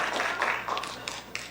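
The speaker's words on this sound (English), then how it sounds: "Please give them another round of applause for all their work" Audience clapping after a school jazz concert, a brief burst of steady applause that fills the space and tapers slightly, with no voices over it.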